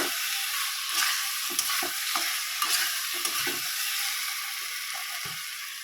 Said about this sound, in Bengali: এবার আলুগুলো দিয়ে দেবো এর সঙ্গে আলুগুলো এর সঙ্গে কষিয়ে নেবো